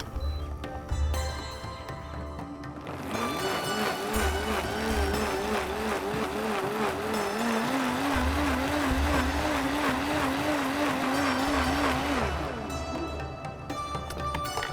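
A food processor whirs steadily for about ten seconds, grinding ingredients into a fine paste, its motor tone wavering slightly as the blades spin, with quieter handling sounds before and after.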